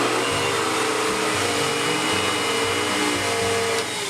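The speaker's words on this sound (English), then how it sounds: "the second position turns on the vacuum and the power head." Central vacuum running with its electric power head engaged, a loud, constant broadband roar with a slight pulsing hum and no voices.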